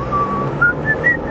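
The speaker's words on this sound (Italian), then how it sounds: "Fischietta." A person whistles a short run of clear, rising notes, close and fairly loud, with no talking.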